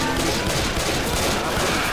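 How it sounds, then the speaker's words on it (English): Sustained automatic gunfire in Left 4 Dead 2 survival mode, a continuous dense rattle of shots filling the whole stretch without pause. "Stop shooting me!"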